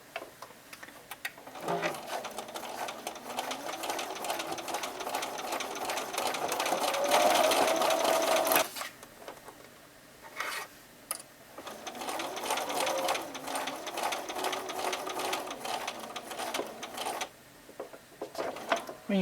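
A sewing machine stitches along a quilt's binding in a fast, steady mechanical rattle, running in long stretches with short pauses and a few clicks between runs, close and fairly loud.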